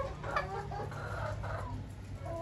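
Chickens on a poultry farm of over fifty hens cluck repeatedly in a busy overlapping chorus, moderately near over a steady low hum, with no talking.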